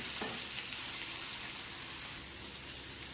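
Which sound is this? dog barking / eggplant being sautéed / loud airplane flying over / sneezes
eggplant being sautéed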